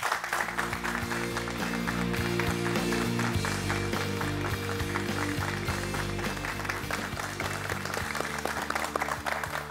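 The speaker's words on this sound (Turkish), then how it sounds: "çok kıymetli konuğum Hasan Önder'i alkışlarınıza davet ediyorum." Audience applause welcoming a guest speaker at a youth-focused talk, heard as a steady wash of clapping under loud music with a pulsing beat throughout.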